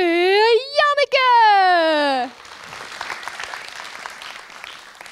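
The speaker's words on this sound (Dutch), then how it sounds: "Dames en heren, geef een groot applaus voor Janneke!" Audience applause for Janneke at a magic show: a long, tonal voice rings out first, then scattered, moderately loud clapping from a small crowd takes over for the last few seconds.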